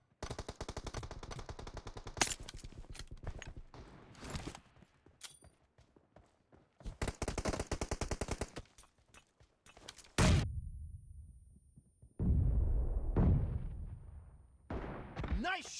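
Video game gunfire from M24 and M416 rifles in a sniping match, rapid automatic bursts and single heavy booming shots with gaps of near silence, loud and close.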